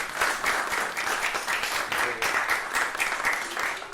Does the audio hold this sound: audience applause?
yes